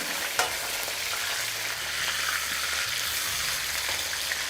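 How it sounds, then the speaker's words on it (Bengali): A katla fish head fries in hot oil, giving a steady, close, dense sizzle with a faint low hum underneath and no voices. "একদিকটা ভাজা হয়ে গেলে অপর দিকটাও পাল্টে নিয়ে ভালো করে ভেজে নিন।"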